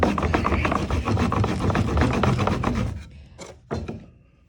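A wooden roller is rubbed back and forth for a rolling friction fire, giving a fast, rough, rhythmic rasping for about three seconds before it stops, followed by a couple of short scrapes.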